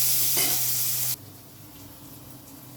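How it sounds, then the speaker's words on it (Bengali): Onions are stirred into a pan of frying kural fish, giving a loud, hissing sizzle for about a second before it suddenly drops to a quiet simmer. "পেঁয়াজ দিয়ে দিলাম পেঁয়াজ দিয়ে নাড়াচাড়া করে"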